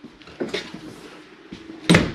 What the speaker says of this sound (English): Secure that door.